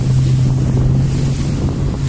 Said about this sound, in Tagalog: Wow, laki ng alon!